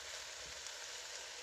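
Liver sizzling and frying in a pan, a steady soft hiss of hot fat with faint crackle, continuous and fairly quiet throughout with no talking.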